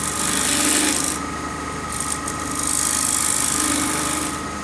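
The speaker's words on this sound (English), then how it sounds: "I'm holding the bowl gouge almost closed and bringing the nose right up in there and then opening it up" A bowl gouge cuts wood on a spinning lathe, producing a continuous loud rasping hiss that dips briefly midway and then resumes.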